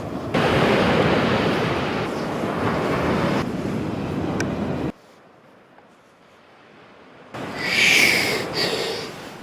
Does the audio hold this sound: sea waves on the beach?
yes